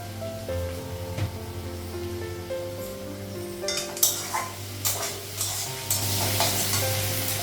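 Pumpkin pieces sizzle in oil in a pan, with a steady frying hiss and several scraping, clattering strokes of a spatula as they are stirred, over a low background hum.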